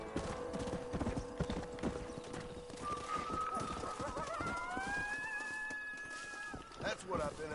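Hooves of a rare, agile horse clip-clop steadily in Red Dead Redemption, up close, with a short neigh and tonal game sounds layered over the gait.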